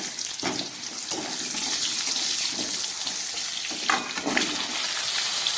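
Cut potatoes, taro and ridge gourd tumble into a hot pan for a fish curry, setting off a loud, steady hiss and sizzle with a few soft clunks as the pieces land and shift.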